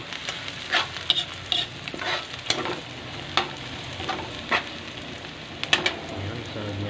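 Food stirs and fries in a pan at home, a steady sizzle broken by repeated scraping strokes of a utensil against the pan at an uneven pace.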